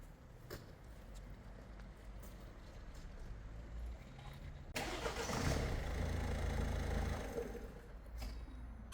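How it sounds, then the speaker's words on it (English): A car engine, just after battery programming and a VSI reset, cranks and catches partway through, then idles at a low, steady rumble after a quiet lead-in, ending with a click. "we've done battery programming, VSI reset, and the car starts every time."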